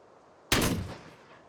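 A single close rifle gunshot fired while hunting a buck deer on open prairie: one sharp, loud crack followed by a short fading echo, with quiet before it.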